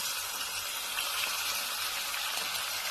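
Minced meat keema frying in a pan with browned onions, a steady dense sizzle that stays even throughout with no voices.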